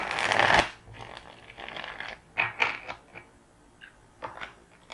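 Tarot cards riffled in a quick burst at the start, then softer scattered taps and slides of cards being cut and squared, close and quiet with no talking.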